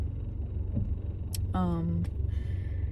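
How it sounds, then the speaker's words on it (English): Evening road traffic passing by, a low steady rumble of cars with a brief horn-like tonal blare in the middle, heard under someone talking. "I don't know why there's so much traffic this evening"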